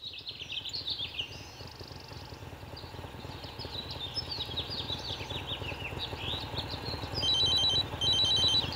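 A telephone rings in a Bhojpuri film scene, with repeated electronic chirping ring bursts over a low background, and the ringing grows louder and more distinct toward the end.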